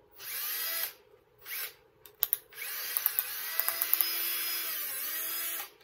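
A power drill whirs in short bursts, then runs steadily for several seconds with a few sharp clicks and knocks, close and loud.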